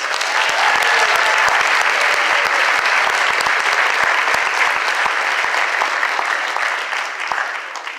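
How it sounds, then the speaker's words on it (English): An audience at the Beta Gamma Sigma 2018 Global Leadership Summit applauds its speakers, with dense sustained clapping that fills the space and fades slightly toward the end. "So a round of applause for our speakers."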